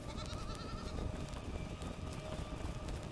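In a survival crafting video game, a goat bleats among busy game sounds and ambience, with nobody speaking.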